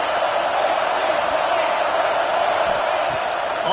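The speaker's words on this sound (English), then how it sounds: "this crowd trying to help keep them there" Steady stadium crowd roar from an American football video game, Tigers against Cardinals, a continuous broad wash of voices filling the whole stretch at constant loudness with no clear words.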